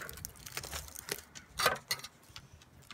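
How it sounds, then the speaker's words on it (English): Scissors make a quick series of crisp snips while a colorant is transferred to a container. The snips are close and moderately loud, with no talking. "snipping it with the scissors and going up"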